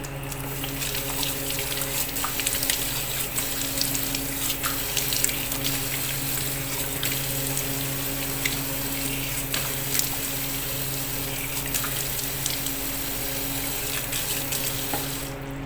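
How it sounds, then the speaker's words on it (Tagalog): Running tap water rinsing a tomato face mask off the skin, a steady close splashing rush from the faucet continuing unbroken throughout. "Kaya babanlawan ko na po siya."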